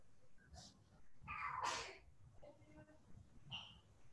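A child sneezes once, a sharp, fairly loud burst rising out of a quiet room with faint background voices and small noises around it.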